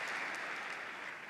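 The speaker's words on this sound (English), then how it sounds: "You can clap for Queens." An audience at the AIPAC 2018 conference claps in a brief, faint, even patter of applause with no voices over it.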